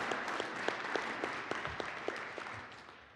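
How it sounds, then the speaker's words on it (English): Audience round of applause after a startup presentation at a community meetup: dense, even clapping from a roomful of people, with a few sharper individual claps standing out, gradually tapering off toward the end. "Let's give Nick a round of applause"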